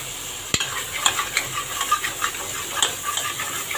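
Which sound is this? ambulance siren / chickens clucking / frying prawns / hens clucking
frying prawns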